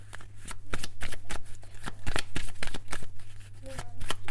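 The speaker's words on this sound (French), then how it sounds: "Alors hop, et on va prendre la dernière carte," Tarot cards shuffled and drawn for a reading, a dense run of crisp card flicks and slaps in quick rhythm close up, with a steady low hum beneath and no talk.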